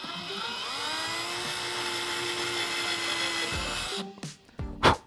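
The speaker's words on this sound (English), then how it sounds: "And just drill a small little pilot hole there" A cheap Harbor Freight power drill runs steadily for about four seconds, boring a small pilot hole in wood for a hinge, its motor whine holding an even pitch before stopping and giving way to a few handling clunks.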